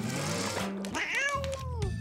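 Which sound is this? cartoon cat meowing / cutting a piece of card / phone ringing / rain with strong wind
cartoon cat meowing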